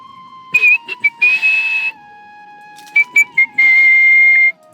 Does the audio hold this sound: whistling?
yes